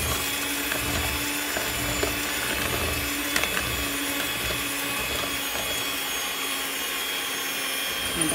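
An electric hand mixer whirs at low speed through chocolate cake batter, a continuous steady mechanical hum with faint rattles and scrapes from the beaters.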